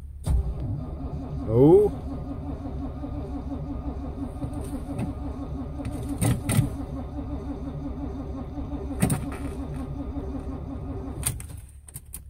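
An engine cranks and turns over at -25C on either a 1978 K5 Blazer or a 1997 BMW, giving a steady, rhythmic churning that runs for several seconds and then stops, with a brief spoken exclamation.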